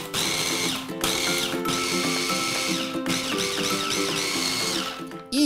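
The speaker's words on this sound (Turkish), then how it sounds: "İyice toz haline getirdik bu arkadaşı." A food processor whirs loudly as it grinds biscuits into fine powder in a kitchen, its motor droning continuously with slight shifts in pitch as the crumbs break down.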